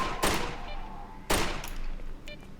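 Two sharp pistol gunshots from S.T.A.L.K.E.R., set in the ruined Dead City, each a loud crack trailing into a brief echo, about a second apart with a quieter shot near the end.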